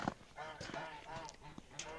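Geese honk repeatedly in a nasal, overlapping chorus, fairly faint and a little distant, with a few sharper calls standing out.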